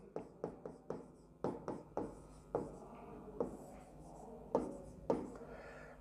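Chalk or marker strokes on a board during a chemistry lecture, a string of sharp taps and short scratchy strokes in irregular rhythm, close and clear, with no voice over them.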